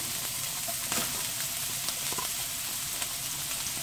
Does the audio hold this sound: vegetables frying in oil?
yes